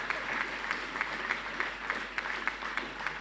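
Crowd claps and cheers for a freestyle motocross rider at a press conference, a steady patter of clapping in a room that holds at a moderate level throughout.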